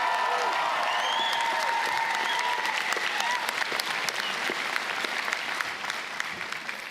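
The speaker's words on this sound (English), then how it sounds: "Let's give our MC a big round of applause." Steady audience applause fills a graduation ceremony hall for Whitireia and WelTec, many hands clapping evenly for about seven seconds, with faint voices and a few whoops mixed in.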